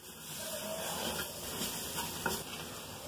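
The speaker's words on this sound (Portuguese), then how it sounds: "Agora que já está tudo refogado aqui da maneira que eu queria" Ingredients for caldo de mocotó are sautéed in a pan, giving a close, continuous sizzle and frying crackle with occasional stirring scrapes.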